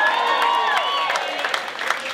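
A Laugh Factory Hollywood stand-up comedy audience in LA cheers and applauds, a dense, lively roar of claps and shouting with whoops and whistles layered on top, holding steady for about two seconds.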